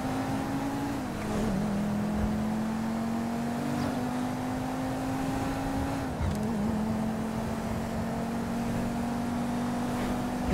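A convertible car's engine drones steadily in GTA 5 Online, holding a constant pitch with small dips as it shifts, mid-distance and unbroken for the whole stretch.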